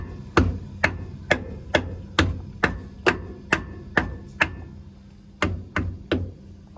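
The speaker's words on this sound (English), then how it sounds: "We're just gonna take a hammer and we're gonna lightly tap under here, right on the purge valve." A hammer lightly taps a truck air dryer's purge valve about a dozen times in a steady rhythm, crisp and close, with a brief pause before the last few knocks.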